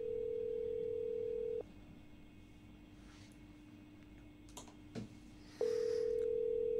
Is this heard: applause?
no